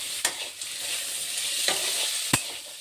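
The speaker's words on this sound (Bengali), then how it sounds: "আলুর দমটা, পেঁয়াজ আলুটা ভাজছি" Potatoes and onions frying in a pan for aloo dum, a steady close sizzle broken by a few sharp clinks of a spatula stirring against the pan.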